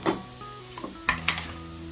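Garlic and ginger sizzle with browned onions in a pan for kofta curry, a steady frying hiss broken by a few clinks and scrapes of stirring.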